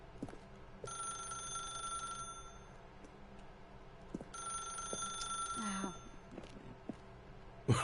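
An old-style telephone bell in the video game The Stanley Parable rings in two long bursts separated by a pause, fairly faint, with a few soft clicks and knocks around it.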